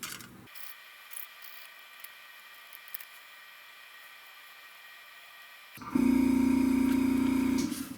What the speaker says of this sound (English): Shut up, compressor.